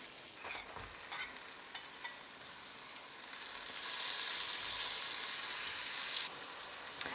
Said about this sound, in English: Then we're gonna dump in our garlic and our scallions. And we're gonna saute that and let it melt.